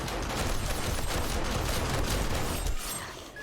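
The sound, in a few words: turrets firing at zombies in 7 Days to Die video game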